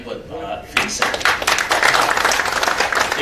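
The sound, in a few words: audience applause for Pak Vincent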